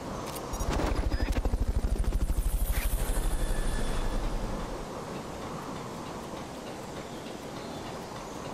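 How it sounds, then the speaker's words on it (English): A Fulton recovery helicopter in the video game Metal Gear Solid Peace Walker, a loud, rapid rotor chop that throbs for several seconds and then fades into a steady low engine drone. "Fulton recovery helicopter is complete."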